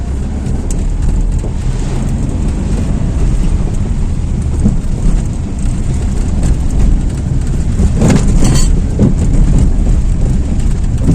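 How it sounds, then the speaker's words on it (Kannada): Heavy, steady rain roars throughout, a dense broadband wash with a low rumble underneath, loud and close, with no voices, heard while travelling by vehicle. "ತುಂಬಾ ಜೋರು ಮಳೆ ಬಂದಿದೆ"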